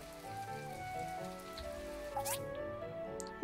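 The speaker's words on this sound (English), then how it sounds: "It's kind of weird that there's rain." Rain patters steadily on surfaces in a desert in the My Time at Portia video game, a soft continuous hiss of drops with a few louder plinks near the end.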